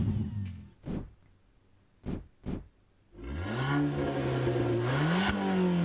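A Fiat 500 Abarth engine, apparently running without an exhaust, gives a few short sharp blips, then a sustained loud rev that holds and climbs, raw and close.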